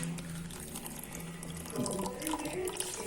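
Warm water poured into a cup of sugar for a home starch bioplastic experiment, a steady liquid stream that grows fuller and louder partway through, close and continuous.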